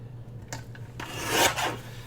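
Paper being cut for a page edge double tuck: a few short rasping snips, then a longer, louder slicing stroke, close by with no talking.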